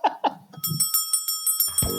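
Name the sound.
bell ringing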